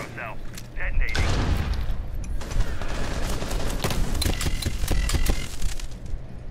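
A nitro cell explodes in the Rainbow Six Siege video game, a sharp blast that opens a dense barrage of gunfire and booming impacts running loud and continuous through the rest of the moment, with voices speaking underneath.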